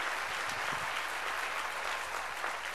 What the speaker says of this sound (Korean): 하나님이 책임지는 걸 믿으면 박수로 하나님께 영광 돌려야 합니다